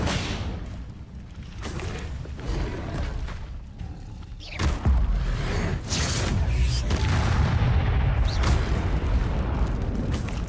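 An Incendio fire spell cast in Hogwarts Legacy bursts out as a whooshing, booming blast of flame, with a heavy thump at mid-clip followed by a sustained roar amid ongoing game combat noise.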